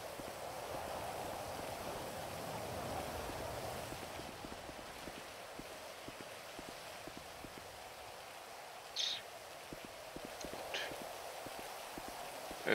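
Steady rain hisses softly on a surface in Frankfurt, with faint scattered drops and a couple of brief knocks.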